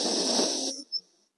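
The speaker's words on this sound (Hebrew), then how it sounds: "אחר כך תעשה נשימה עמוקה" A child draws a deep breath, a single loud airy inhale lasting under a second that cuts off abruptly, followed by a faint short hiss.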